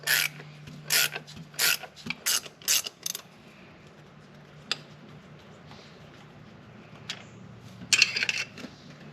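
Old stud being spun out of a Mitsubishi 4G63 engine block by hand, a series of sharp ratcheting bursts with pauses between them, then quieter rubbing and a final ratchet burst near the end.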